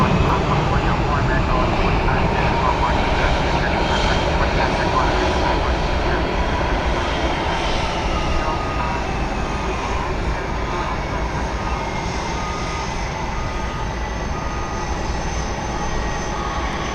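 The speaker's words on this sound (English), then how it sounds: "That there was America Flight 1115 coming in from Philadelphia, 7879 Dreamliner." An American Boeing 787 Dreamliner arriving from Philadelphia at Dallas-Fort Worth produces a sustained, loud jet roar that stays steady across the whole span, fading only slightly toward the end.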